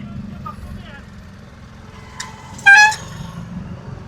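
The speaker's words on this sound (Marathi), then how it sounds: "बाईचा हॉर्न लय भारी, हॉर्न आवडलाय मात्र मला" A pickup truck on a road sounds its horn in one short, loud blast, over steady engine and road noise.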